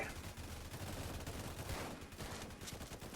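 Rapid gunfire from defensive towers in the Roblox Tower Defense game, a dense steady stream of shots running the whole time, fairly quiet in the mix with game sounds.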